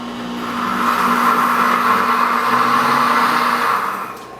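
A deluxe cooking blender pulsing heavy cream: a loud, steady motor whir that ramps up within half a second, holds evenly for about three seconds, then cuts off and winds down.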